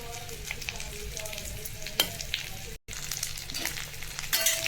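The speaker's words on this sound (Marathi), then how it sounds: "वांगी छान असं तेलात फ्राय झाले आहेत" Brinjal pieces fry in oil with turmeric in a steady, close sizzle, broken by a sharp utensil clack near the middle, a brief dropout, and brighter crackling toward the end.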